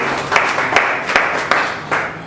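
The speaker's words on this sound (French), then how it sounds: "Je voudrais que vous puissiez vous-même vous applaudir parce que vous avez fait beaucoup." An audience at a seminar applauding, a steady wash of many hands clapping with a few sharper peaks, moderately loud and continuous throughout.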